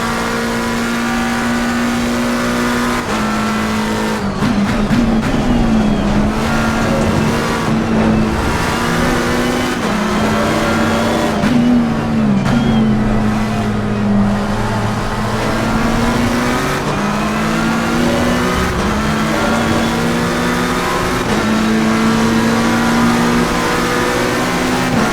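Race cars roar through Nürburgring laps in a racing video game, engines loud and continuous with rising and falling revs and gear shifts, several cars close together throughout.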